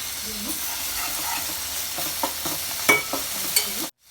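Ginger garlic paste being stirred into onions fried golden in a pan, a steady sizzle with several sharp scraping stirs growing louder toward the end before the sound cuts off abruptly; no one speaks.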